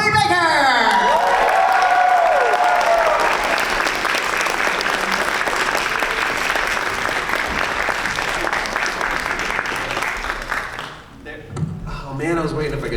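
Convention audience at a Collective Con panel for a voice actor breaks into loud, sustained applause with cheers and whoops, a dense roar of clapping that drops off near the end as a voice comes in.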